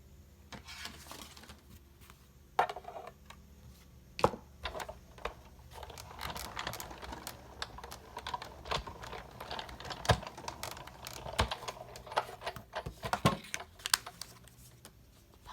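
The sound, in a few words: die cutting machine cutting out paper shape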